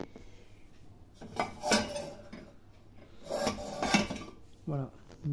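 Small plates being washed with dish gel, with close scrubbing, rubbing and clinking of dishes in a few uneven bursts separated by quieter moments, and no talking.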